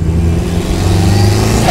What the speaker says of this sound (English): if I short shift out of the gear while it's on boost, is it going to cause like some shunt noise?